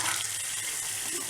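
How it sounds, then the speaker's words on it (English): Water runs steadily from a faucet fitted with a diverter pin for a reverse osmosis unit, a constant close hiss with no pauses and no talking. "you're going to pull this pin and then turn on the water"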